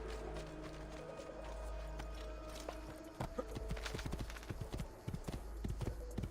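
A horse gallops in Assassin's Creed II, rapid hoofbeats growing sharper and more prominent in the second half over a steady game background hum.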